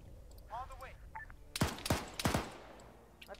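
Arma 3 suppressive gunfire aimed toward a BTR: several sharp, loud shots in close succession, with faint radio-like chatter and distant sounds before them.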